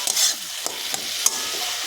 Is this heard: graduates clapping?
no